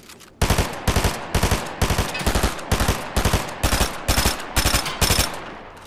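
SMG fire in an online shooter: loud, rapid bursts in a steady rhythm, about a dozen short volleys back to back, close and dominant with no talk over them.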